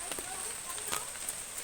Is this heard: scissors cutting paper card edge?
no